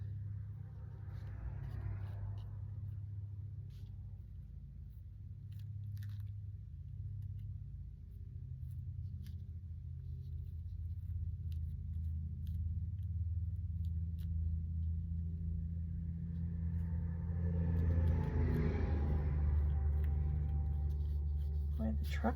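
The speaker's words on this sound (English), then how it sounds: "Boy, the trucks are running today out front." Low, steady rumble of trucks passing out front on the road, faint and distant behind an indoor crafting space, swelling toward the end as a heavier vehicle goes by, with a voice talking over it.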